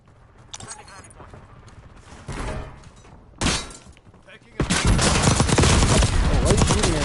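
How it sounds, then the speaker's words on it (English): Gunfire aimed at the player in Call of Duty Warzone on Rebirth Island: scattered shots and bursts early, then a sudden dense barrage of rapid automatic fire, with a voice talking over it. "why are you shooting at me, bro?"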